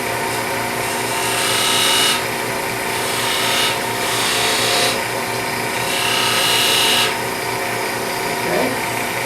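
A skew chisel cuts spinning plywood on a wood lathe in a steady motor hum, with three or four rhythmic scraping passes, each a couple of seconds long, close and fairly loud.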